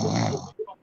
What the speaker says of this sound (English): sounds like somebody snoring.